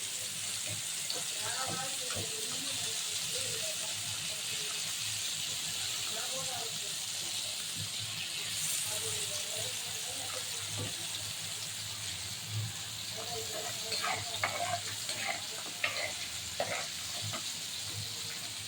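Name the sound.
kodua fish (barramundi) frying in a pan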